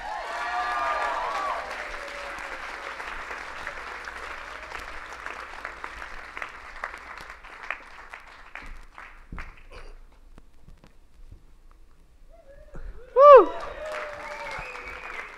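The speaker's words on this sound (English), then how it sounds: "Thank you for your applause." Audience applause for a speaker at a talk event, moderate clapping that runs for several seconds and then tapers off, followed by a quiet gap and a single loud whoop from the crowd.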